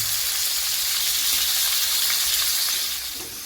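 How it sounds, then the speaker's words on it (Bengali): Potato pieces frying in hot oil until reddish, cooked for an omelette curry, give a loud, dense, continuous sizzle heard up close with no voices, easing off slightly in the final half second. "আলুগুলোকে মোটামুটি লালচে লালচে করে ভেজে নেব"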